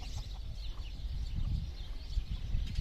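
A mother hen with her chicks clucks in a low, continuous murmur close by, mixed with soft higher peeps from the babies against outdoor background noise.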